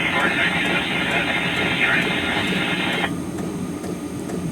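A 3D printer prints a case for a Meshtastic T-Beam, its motors whining and stepping steadily before the pitch drops after a few seconds, with someone talking over it.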